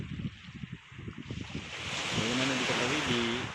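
Wind blows at Pantai Undi beach in Manokwari, West Papua, a broad rushing buffet that swells and holds steady in the second half, while a voice is heard over it.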